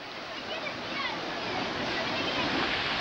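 A sea wave rushes onto the shore of a beach, a broad continuous wash of surf that swells slightly louder toward the end, heard close.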